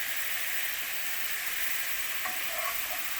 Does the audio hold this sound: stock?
yes